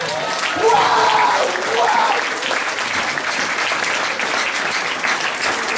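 A church congregation claps loudly and continuously, a dense sustained applause with voices mixed in throughout.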